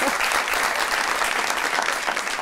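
Dense studio audience applause at a television comedy talk show, a continuous loud wash of many hands clapping at once with no individual claps standing out, close and unbroken throughout.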